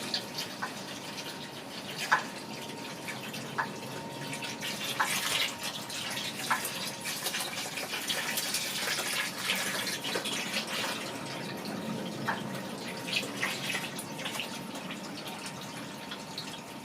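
Diesel fuel is stirred around inside a narrowboat's tank, giving a faint, steady swishing and trickling of liquid with occasional drips, and no one speaking.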